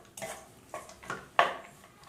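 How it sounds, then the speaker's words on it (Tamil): Cooked rice being mixed in a pan for lemon rice: four or five distinct scraping clinks of a spoon against the pan, spaced irregularly, close and fairly quiet, the last one sharpest, with no talking. "இப்போ சாதத்தை சேர்த்து நல்லா கலந்துடலாம்."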